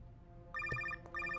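A telephone rings in short trilling bursts, two rings separated by a brief gap, over a low background hum.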